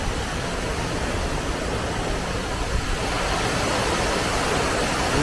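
The Saugran waterfall in the Caylat gorges of the Lot roars steadily and loudly up close, a dense unbroken rush of falling water with no voices.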